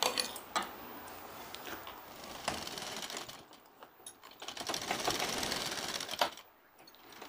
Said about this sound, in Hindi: हमें यहाँ पर एक सिलाई लगा देना है